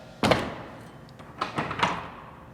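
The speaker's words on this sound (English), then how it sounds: "So as we close the door, I'll do it kind of slow here for you. You see the pawl will come up to the catch." A Euro-Wall Euro Vista multi slide door is closed slowly, its pawls seating into the catches with a few distinct knocks and thuds, close and clear with no talk.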